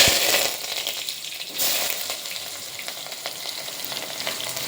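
Cumin, mustard seeds and curry leaves fry in hot oil with a loud, steady sizzle and crackle, plus a few stirring scrapes, close by and with no voices.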